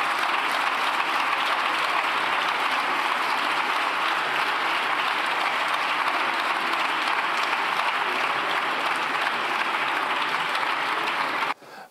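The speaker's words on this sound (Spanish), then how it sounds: "Pueden aplaudir." Sustained applause fills a parliamentary chamber in Spain's Congress, a dense, steady wash of clapping from many members that holds evenly for about eleven seconds before cutting off abruptly at the end.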